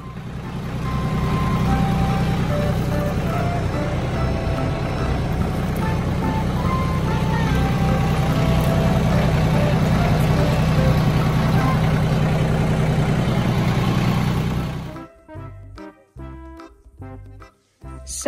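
A vehicle engine labours steadily as it creeps down a steep, deep slope on a countryside track while hauling a big firewood trailer, a loud continuous rumble that cuts off abruptly near the end, leaving a few faint knocks.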